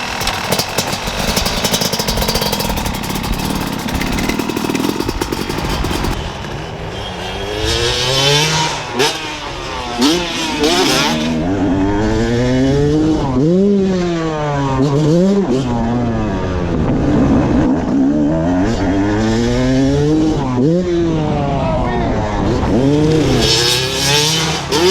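A motorcycle rides at speed with a steady loud roar of engine and wind rushing past, the engine pitch rising and falling through repeated revs and gear changes, with no talk over it.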